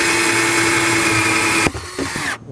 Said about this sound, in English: I'll just drill one in the center right now while we're waiting